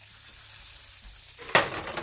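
Jelly ear mushrooms hit butter in a hot pan with a soft, steady sizzle, followed by a sudden sharp pop or spatter near the end.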